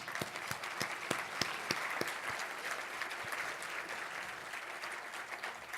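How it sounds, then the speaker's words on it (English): Symposium audience applauds the R20 team, a few sharp individual claps standing out early before blending into steady, even crowd clapping. "give them a round of applause"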